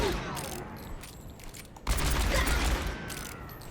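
McCree's revolver is fired in Overwatch, with loud cracking shots amid busy game noise and a sharp, heavier burst of fire about halfway through.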